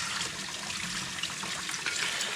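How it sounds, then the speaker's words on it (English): Running water rinses the straps of an Arai motorcycle helmet, a steady, close splashing stream that continues evenly without a break. "especially rinse out your helmet straps really, really well"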